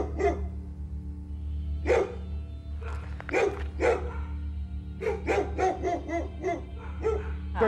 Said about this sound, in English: We got 3 dogs on the bear right now.